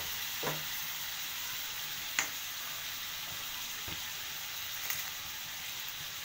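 Ginger-garlic paste sizzles in hot oil for a dhaba-style chicken curry, a steady fry hiss broken by a few sharp clanks of a spoon against the pan.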